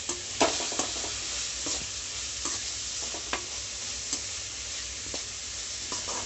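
Ginger garlic paste sizzles in a pan over a medium flame while a spoon stirs it with repeated sharp scrapes. The steady frying hiss runs alone underneath the stirring, and no one speaks.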